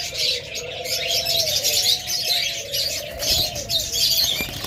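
Diamond doves kept as pet birds, a soft low cooing line running through the clip with airy chirping and rustle above it, close and continuous.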